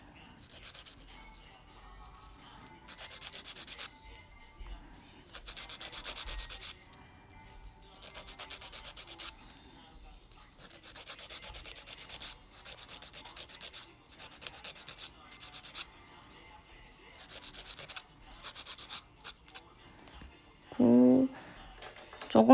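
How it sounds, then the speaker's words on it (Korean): A light sanding of a craft piece for Halloween water ball art, short repeated rasping strokes in bursts of a second or two, close and fairly quiet, with a brief voice near the end. "살짝 갈아주시고."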